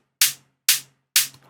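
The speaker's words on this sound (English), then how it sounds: "I added in a hi-hat that I have layered. So it is two hats in conjunction, and they sound like this." Two tech house hi-hats are layered into one hit that sounds three times at an even pace, each a crisp bright tick with a short decaying tail, heard alone.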